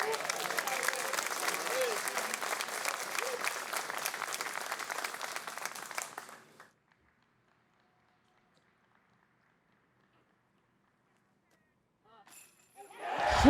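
Spectators at a disc golf hole applaud and cheer for several seconds in a steady burst of clapping that fades into silence, and brief noise returns at the end.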